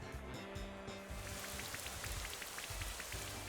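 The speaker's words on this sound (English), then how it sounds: "It did get Rain Dance up." Rain Dance rain effect in Pokémon Sword and Shield, a steady soft patter of falling rain layered over low game background music, quiet throughout.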